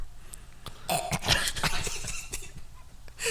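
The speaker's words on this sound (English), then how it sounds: "Excuse my cough." A few short, rough coughs and throat-clearing sounds up close, fairly quiet, with brief pauses between them.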